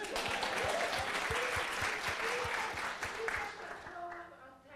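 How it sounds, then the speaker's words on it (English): An audience at a women's leadership event breaks into sustained, dense applause, with voices mixed in beneath the clapping before it thins toward the end. "Now you can applaud for her"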